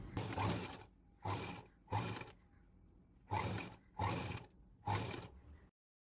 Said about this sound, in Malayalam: എന്നിട്ട് ഒരു 1/4 ഇഞ്ചിൽ ഇങ്ങനെ തയ്ച്ചു വരിക